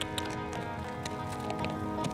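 Horse running on a MythBusters archery course, a steady train of hoofbeats at a moderate distance with no talk over it.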